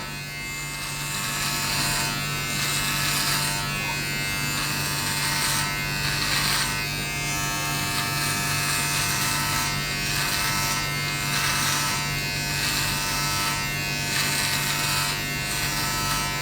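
Manscaped Lawn Mower 3.0 Plus electric trimmer shaving chest hair, a steady close buzzing hum that runs without a break, with the pitch shifting slightly as the blades move over the hair.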